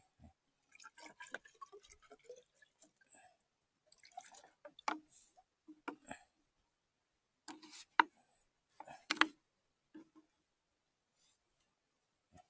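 Water is put into a container outdoors in a hillside setting, heard as scattered drips and small splashes, close and irregular with quiet gaps between, and no talk.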